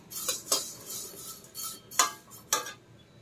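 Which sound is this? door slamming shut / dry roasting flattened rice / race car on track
dry roasting flattened rice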